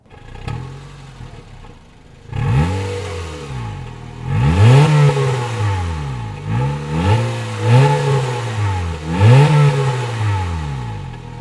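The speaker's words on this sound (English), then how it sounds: "As you can hear, we are driving the Honda CRZ hybrid now" A Honda CR-Z hybrid engine revs repeatedly, pitch rising and falling through several gear changes, loud and close from inside the cabin.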